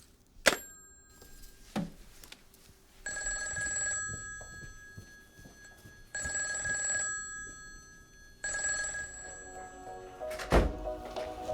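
An old-style telephone bell rings in three long, evenly spaced bursts, loud and close, with sharp thuds and knocks before and after.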